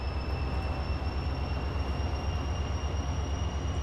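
A Dutch train running in the Transport Fever video game, heard as a steady, loud rumbling drone with faint high whining tones held throughout.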